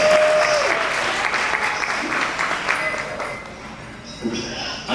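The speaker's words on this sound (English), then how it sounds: "In addition to Dexter and Lisa, if we can give them a round of applause for being such amazing MCs for today." An audience at a brunch awards event applauds the two MCs, a loud burst of clapping from a room full of people that gradually thins out over five seconds.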